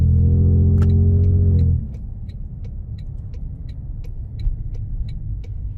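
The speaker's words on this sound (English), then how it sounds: "we're gonna go on a quick test drive here" A 2025 Toyota Tundra Hybrid TRD Pro, modified, starts out on a test drive: a steady engine drone gives way to low, continuous road and cabin rumble with a faint regular ticking, and no talking.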